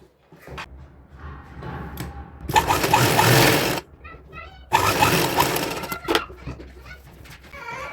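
A sewing machine stitches the crotch seams of palazzo lining fabric in two loud bursts of rapid whirring, separated by quieter handling clicks and pauses.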